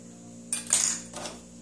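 A whisk scrapes and clinks against a metal pan of shrimp scampi sauce, a couple of short metallic strokes, close and fairly clear over a steady low hum.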